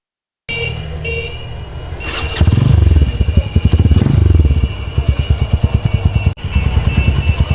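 Motorcycle fitted with a loud aftermarket exhaust pipe starting up and idling, then revving in a rapid throbbing put-put close to the microphone, with a short break before the chugging resumes.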